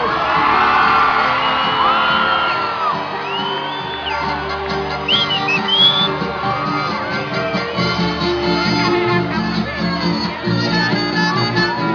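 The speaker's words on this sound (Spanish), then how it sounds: "Que se oigan los gritos." A concert crowd at a show in Cali shouts and whoops loudly and continuously, with cheers and yells overlapping into a dense roar throughout.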